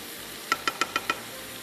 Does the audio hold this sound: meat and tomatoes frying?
yes